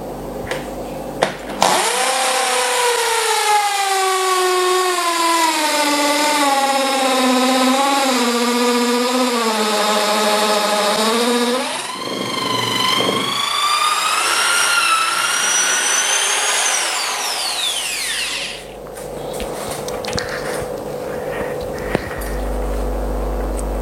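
A Bosch electric drill with a 10 mm bit whines loudly and steadily as it spins up. Its pitch sags under load while drilling, then rises sharply and winds down to a stop.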